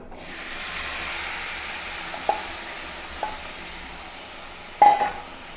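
Raw plantain dropped into a pan with turmeric and chili powder, giving a steady soft sizzle with a few brief sharper clinks or scrapes, close and without talk.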